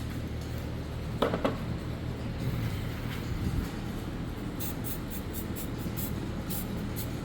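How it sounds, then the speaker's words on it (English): Spray paint hisses from a can onto bolts on a Ford Ranger in a run of short, repeated bursts near the end, over a steady low rumble and an earlier brief clatter. "I'll spray paint those bolts."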